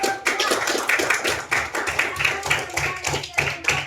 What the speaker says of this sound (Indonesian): Kalian kasih tepuk tangan yang meriah untuk kita